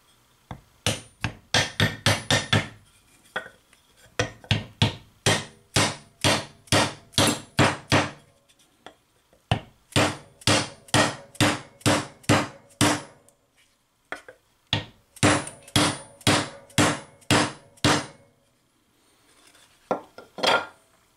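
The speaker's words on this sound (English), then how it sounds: "I'm going to just try to gently tap this in place. Take a block of wood and a dead blow" A dead blow hammer taps a spindle bearing into place through a wooden block, giving loud, evenly spaced knocks in quick bursts of about a dozen strikes each, with short pauses between the runs.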